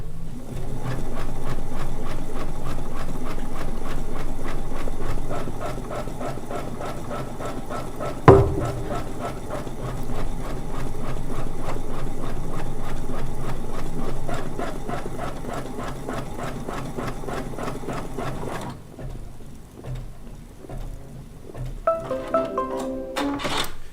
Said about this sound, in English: now we'll do a basting stitch around the perimeter